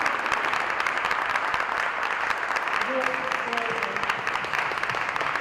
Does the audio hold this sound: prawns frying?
no